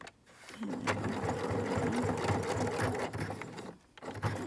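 Sewing machine backstitching a fabric face mask, a close, steady whirring rattle of the needle running for a few seconds before stopping, with a short restart at the end.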